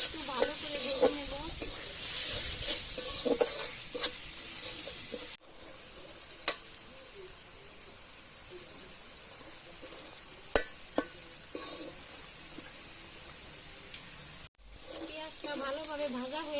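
Onions frying in a pan with bay leaf, garam masala and green chillies: a steady bright sizzle runs throughout, with repeated scraping stirs and a few sharp utensil taps. The sizzle drops briefly partway through.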